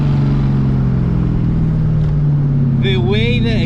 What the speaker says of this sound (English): The way the exhaust sounds, it reminds me of like those 1940s, 50s bombs